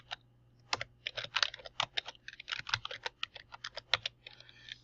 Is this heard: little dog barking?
no